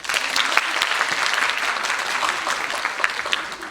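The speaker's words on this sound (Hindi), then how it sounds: "तो आप सबों के लिए हम सब ताली बजा रहे हैं।" An audience at Jashn-e-Azhar 2023, the 12th national Hindi theatre festival in West Bengal, breaks into continuous applause, a dense patter of many hands clapping close and steady with no voices over it.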